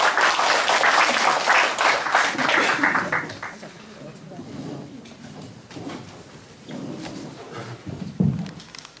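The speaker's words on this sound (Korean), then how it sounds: "우리 총장님을 큰 박수로 맞이주십니다." A lecture audience at a provincial government hall applauds a speaker's arrival, loud clapping for about three seconds that fades into scattered claps, shuffling and faint room noise.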